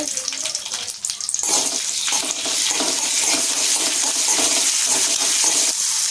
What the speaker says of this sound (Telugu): మన కరివేపాకు అంతా బాగా పైసీగా చెట్టు చెట్టు అనే దాకా వేపుకోవాలి